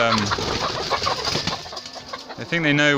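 Free-range hens cluck and chatter nearby in a coop in short, uneven bursts, with a human voice speaking briefly at the start and again near the end.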